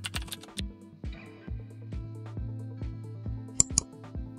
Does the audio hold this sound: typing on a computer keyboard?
yes